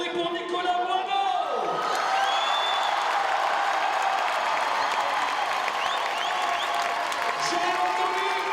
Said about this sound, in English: Applaudissements pour Nicolas Boineau